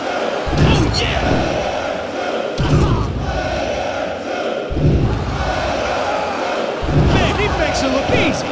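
Video game crowd from WWF Attitude on PS1 roars and cheers in loud repeating waves, with shouted bellows rising over the steady arena din.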